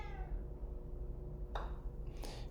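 A cat meows faintly from another room, a brief cry early on with two short harmonic calls later, heard against steady low background hum.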